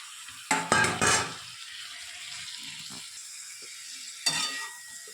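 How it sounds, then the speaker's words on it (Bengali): Spices frying in a pan while being stirred, a soft steady sizzle with sharp bursts of scraping and clattering near the start and again toward the end. "ভেজে এখানে মশলাটা কষিয়ে নিয়ে"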